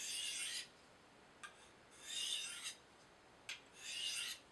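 A Spyderco Tenacious knife with an 8Cr13MoV blade is sharpened in alternating strokes, producing three long raspy scrapes with short clicks between them, close and fairly quiet with no talking.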